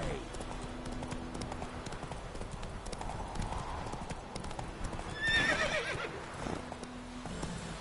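Horse hooves clip-clop at a gallop through a Witcher 3 video game scene, steady rhythmic hoofbeats throughout with a brief whinny partway, while a voice talks over it.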